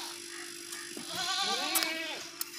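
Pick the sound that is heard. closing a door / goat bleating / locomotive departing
goat bleating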